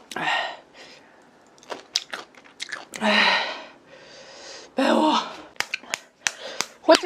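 Someone chews and bites into fried chicken close to the microphone, with moist, crunchy bursts between pauses and faint breathy sounds.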